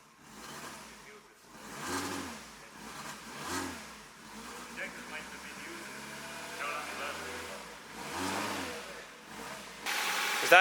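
A turbocharged Nissan Micra engine cranks and catches, then settles into a low, steady idle with a few swelling rises, heard close with people talking over it.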